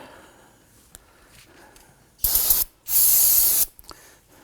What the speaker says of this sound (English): Now you can go ahead and take some spray solvent.